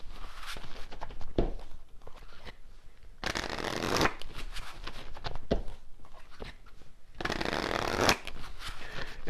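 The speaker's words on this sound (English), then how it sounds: "when I'm shuffling here" Tarot cards are shuffled close up in repeated riffling bursts, with two longer, louder runs of fluttering cards between softer handling sounds.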